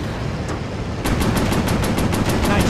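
Machine gun fire in the VR flight combat game Warplanes: Battles over Pacific rattles in rapid, evenly spaced bursts, loud and close, intensifying after a brief lighter start.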